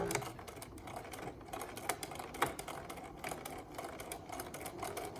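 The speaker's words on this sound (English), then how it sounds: "So now I'm ready to sew." A sewing machine stitches fabric piping right beside the cording, giving a quiet, close, continuous run of rapid mechanical clicking and whirring with no speech.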